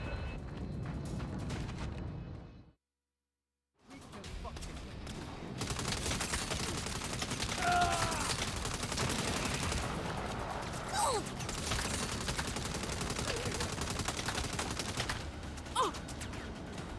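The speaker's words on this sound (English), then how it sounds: "You can see I'm definitely trying to get the headshots." Sustained gunfire from a third-person action game, Saints Row, as the player aims for headshots: a dense, continuous barrage of shots and bursts, loud and close, broken by a brief silent gap near the start, then resuming steadily to the end.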